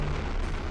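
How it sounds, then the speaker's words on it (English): A comet nearly three miles wide detonates above North America, a dense, continuous roaring blast with heavy low rumble that fills the short moment at constant loud level, no voices. "It detonates above North America with a force equal to 20 million megatons."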